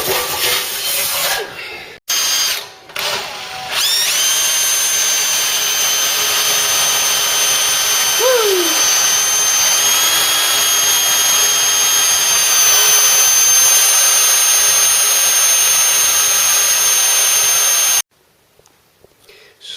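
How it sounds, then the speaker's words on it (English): Power drill with a Kennedy spot weld cutter boring out spot welds on the body of a Ford Cortina Mk3 during classic car restoration, a steady loud whine with brief interruptions near the start, running continuously until it stops near the end. "drilling away with a super duper Kennedy"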